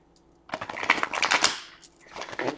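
A deck of tarot cards being shuffled, with a brief burst of rapid riffling and soft papery flutter, a short pause, then a second quick shuffle, close and moderately loud.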